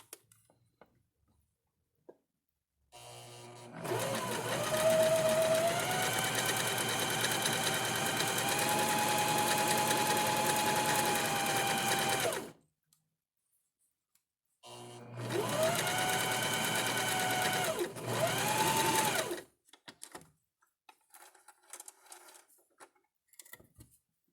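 Sewing machine running steadily while stitching a cardigan, loud and close, in two bursts of roughly nine and four seconds separated by a short pause, with faint handling noises afterward.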